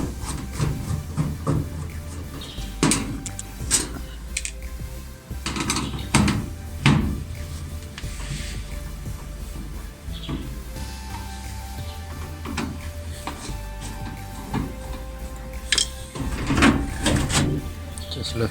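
Bolts being undone on the back cover of a washing machine, with irregular metallic clicks, scrapes and clunks from a hand tool close by, plus handling knocks and camera shuffling throughout.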